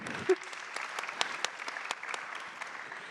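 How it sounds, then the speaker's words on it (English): Audience applause during a Global Citizen NOW food systems panel session: sparse, faint clapping with scattered individual claps, fairly quiet throughout with no talk over it. "a round of applause for going local"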